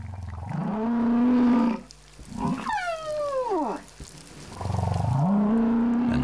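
Underwater whale vocalizations: long, loud moaning calls with a sweeping, descending cry between them, echoing through the water with no voices.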